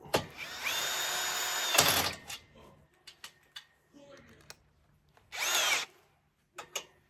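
A power drill drives self-tapping screws into a Home Depot gate kit. Two long, loud whirring bursts stand apart, separated by quieter scattered clicks and knocks.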